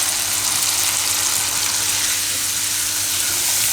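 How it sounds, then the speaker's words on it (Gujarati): Tomatoes with Kashmiri chili sizzle and fry in a pan for a Gujarati tomato poha, a steady, loud, dense hiss running unbroken through the whole stretch with no voices. "તો ટમેટાને હવે પાકવા દઈશું."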